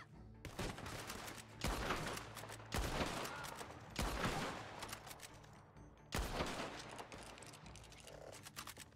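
Several gunshot volleys in a Red Dead Online shootout ring out loud and close, each sharp blast followed by a decaying echo, with brief gaps between bursts and no talking.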